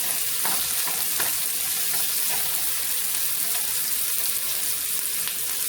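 Filling frying in about a teaspoon of oil in a pan, a steady close hiss and crackle with a few faint stirring clicks throughout.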